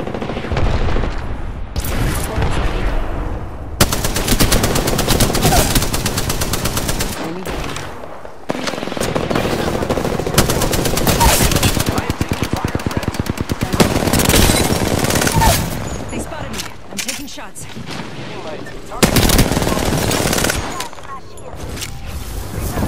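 Sustained automatic gunfire from an Apex Legends match, dense rapid bursts with heavy booms, loud and close, broken by brief pauses around the eighth and eighteenth seconds.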